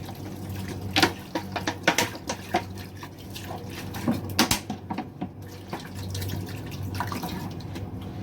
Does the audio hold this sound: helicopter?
no